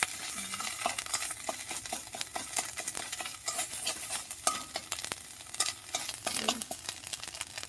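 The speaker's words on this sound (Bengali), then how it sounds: "আদাটা একটু ভালো করে ভেজে নেবো যাতে আবার কাঁচা গন্ধটা চলে যায়" Ginger paste frying in a pan, a steady broadband sizzle with repeated scraping stirs and light utensil clicks throughout, close and continuous with no talking.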